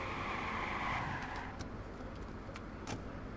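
A car in the video game Watch Dogs skids under the e-brake, its tires squealing against a loud engine roar that fades slightly after the first second.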